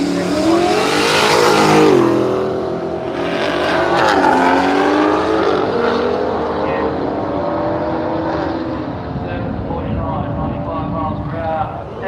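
A BMW drag racing car makes its run at Willowbank Raceway in Australia. The engine roars loud and sustained, its revs rising and falling in sweeping pitch changes before it fades slightly toward the end.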